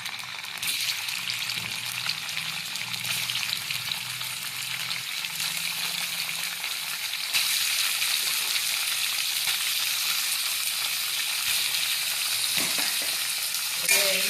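Paneer fries in hot oil in a pan, a loud, continuous crackling sizzle close up that swells slightly partway through, with faint scraping underneath.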